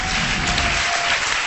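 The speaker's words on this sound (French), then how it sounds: "On applaudit Vanessa." A room full of people applauding Vanessa: dense, even clapping with a muffled, bandlimited quality, sustained at a steady level throughout the short stretch.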